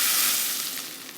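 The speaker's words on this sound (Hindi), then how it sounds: "सबसे पहले तो हमने इसको तड़का लगाना है।" Tadka tempering for dhaba-style beef keema sizzles hard in a hot pan, a bright, close, continuous frying hiss that gradually eases off, with no talking.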